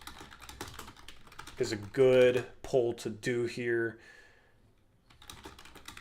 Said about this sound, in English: I need to get a quieter keyboard.